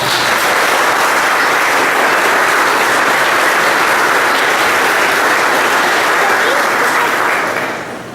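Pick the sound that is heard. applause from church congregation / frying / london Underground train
applause from church congregation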